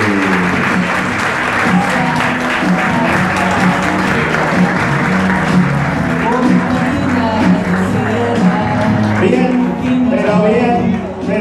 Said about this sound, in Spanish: pero bien fuerte el aplauso para Vicente